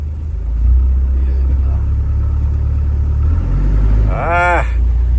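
An old Toyota BJ40 engine idles with a steady, deep rumble throughout, close and fairly loud, with a brief voice-like chirp near the end.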